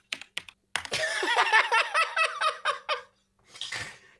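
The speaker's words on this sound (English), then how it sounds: "I'm going to use my extremely loud mechanical keyboard to Google this." Rapid clattering keystrokes on an extremely loud mechanical keyboard, a few isolated taps followed by a dense burst of typing, close and clear with no talk.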